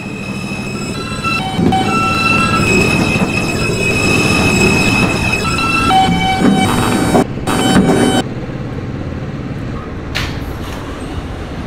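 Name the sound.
express subway train running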